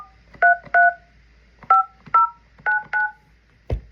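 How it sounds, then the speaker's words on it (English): A telephone number dialed on a keypad: seven crisp dual-tone beeps in short uneven groups, loud and close, with no voices and a brief thump at the end. "it's because I dialed the wrong number"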